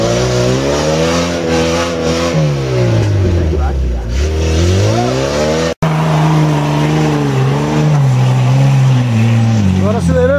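An off-road vehicle's engine revs hard and rises and falls in pitch while climbing a rock on a trail, loud and close, with voices talking underneath.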